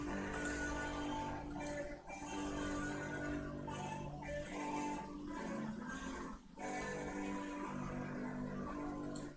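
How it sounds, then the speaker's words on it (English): Loud, buzzy electric guitar distorted by a DOD Classic Fuzz pedal churns continuously, with sustained gritty notes and a few rhythmic dips, dense and saturated throughout. "most of the distortion you're hearing right there is the DoD Classic Fuzz"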